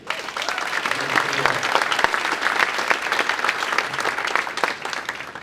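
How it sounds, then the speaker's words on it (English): A round of applause at a leadership awards luncheon as honorees take their seats, a full crowd clapping steadily and fairly close with scattered sharp claps and faint voices mixed in. "One more round of applause while they take a seat."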